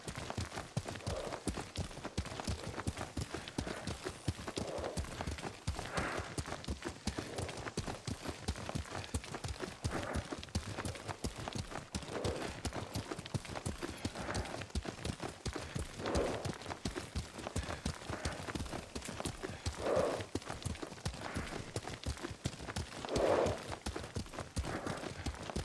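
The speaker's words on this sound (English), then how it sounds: "Lord Sakai taught me to ride a horse." Horse hooves gallop in the video game Ghost of Tsushima, a fast, steady clip-clop rhythm running throughout at moderate level, with faint voices briefly rising over it.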